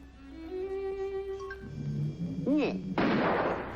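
A single sharp gunshot blast in a Bugs Bunny and Daffy Duck cartoon bursts out loudly near the end, after cartoon voices and sliding musical tones.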